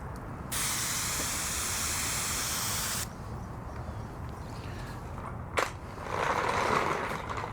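A pump sprayer misting car wash product onto a vehicle gives a steady, loud hiss for a few seconds, then stops, followed by a short burst and a softer, broader spray near the end.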